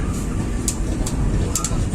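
The Blambangan Express executive-class passenger train runs along the rails, heard from inside as a steady low rumble with intermittent higher clacks and squeaks, fairly loud and continuous.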